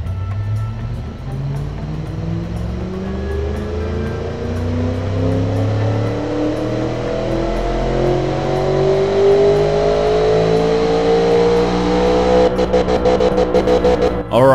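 Simulated car engine in a game development test revs steadily upward, its rising whine sweeping higher over about fifteen seconds, loud and alone, ending with a rapid stuttering rev-limiter buzz.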